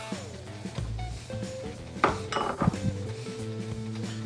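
Pork carnitas ingredients with onion, garlic and salt stirred in a pot on a stovetop, with a spoon clinking and scraping against the pot under background music.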